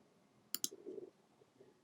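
Computer mouse clicks on installer buttons, two quick, sharp clicks close together, quiet and close-up, followed by faint low rustling.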